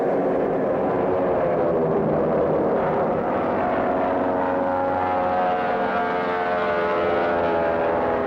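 Several propeller airplanes in a cartoon air race start up together, a steady, droning engine roar with a buzzing propeller hum that holds evenly loud throughout, with no talking.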